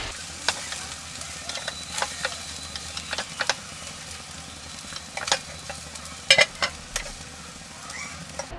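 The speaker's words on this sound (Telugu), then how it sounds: "అంతా ఒకసారి మిక్స్ చేయండి" Tomato and rice are stirred together in a hot pan, with scattered scraping spoon clicks over a low, steady sizzle, close and without talk.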